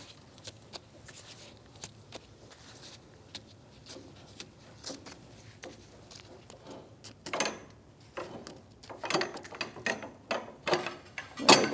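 On a 2016-2025 Chevrolet Malibu, the rear shock absorber shifts and creaks as the lower control arm is removed, irregular close metallic clunks and rattles growing louder and busier toward the end.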